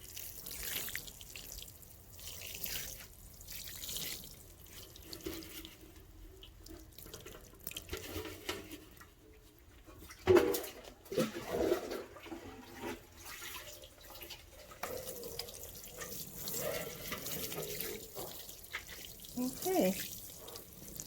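Water poured onto an indoor worm bin during routine care, a steady close splashing and trickling that runs through the whole stretch with a few louder bursts.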